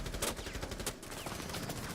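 Dense gunfire from a competitive Rainbow Six Siege match: rapid overlapping shots in a continuous, busy clatter with no pauses, fairly quiet overall.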